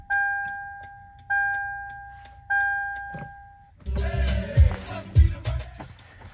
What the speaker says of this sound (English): I'll actually kick on the key here so you can hear the turn signal.